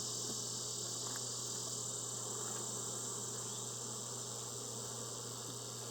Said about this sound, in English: there's so many bees on the bottom of the box